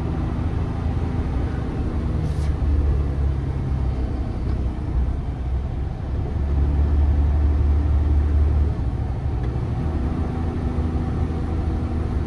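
A truck descends a hill on its engine brake with the service brake off, giving a loud, continuous low engine drone and rumble that swells and eases over several seconds, with no talk.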